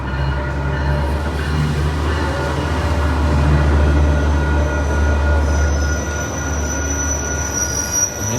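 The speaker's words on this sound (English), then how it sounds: "On board the little free trolley, and in comes a surfliner, so unexpected." An Amtrak Surfliner passenger train rolls in with a loud, steady rumble and high metallic wheel squeal near the end, close by and continuous.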